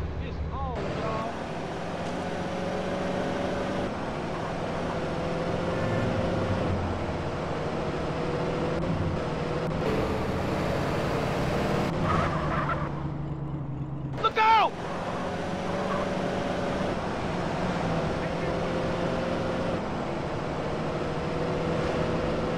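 Car driving in GTA San Andreas, a revving engine and rushing road and wind noise that rise and dip with the driving. Game characters talk loudly over it, with one abrupt clunk partway through.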